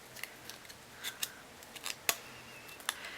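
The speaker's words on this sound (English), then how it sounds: "if you're using thin stuff like I am, you can actually just cut the curve out of the plastic" Scissors snip a curved shape out of thin plastic sheet for mask eye lenses, a string of short, crisp cuts spaced irregularly, fairly close and quiet with no voices.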